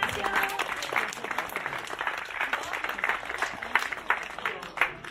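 Lively applause for a team at an adapted sports day, close, dense clapping with crowd voices and cheers mixed in, some people talking under it.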